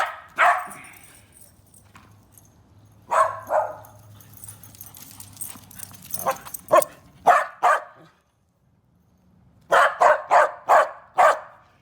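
A dog barks in loud, close bursts, some single and some in quick runs of four or five, with quieter gaps and a low hum between them.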